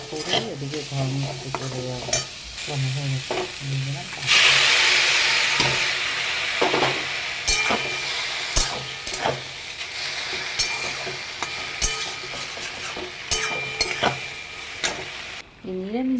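Tomatoes softening in a pan for vegetarian pasta sizzle steadily while a spatula stirs and scrapes in repeated strokes, with a voice talking over the cooking at moments.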